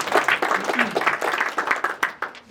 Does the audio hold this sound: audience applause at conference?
yes